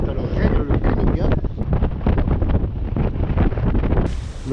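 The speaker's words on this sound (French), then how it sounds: "Le vent forcit un petit peu à l'approche de la terre." Steady wind gusting over a microphone aboard a sailboat at sea off the Ionian coast in about 14 knots, a loud rough buffeting that fills the whole stretch and may cover quiet talk.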